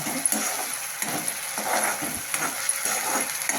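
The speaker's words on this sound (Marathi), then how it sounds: "थोडी फ्लेम मोठी करू छान तेल सुटेपर्यंत आपल्याला लसूण परतून" Garlic sautéing in oil over a raised flame, a steady close sizzle and crackle with rhythmic stirring scrapes and faint clinks of the spoon against the pan throughout.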